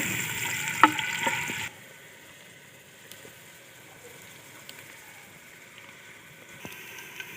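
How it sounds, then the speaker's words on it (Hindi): Chopped onions drop into hot oil and sizzle loudly for a moment. The frying then settles to a faint, steady hiss, with a few light stirring clicks. "अभी इसमें हम डालेंगे प्याज। प्याज को हल्का सा ब्राउन करेंगे।"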